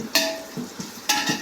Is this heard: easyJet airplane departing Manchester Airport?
no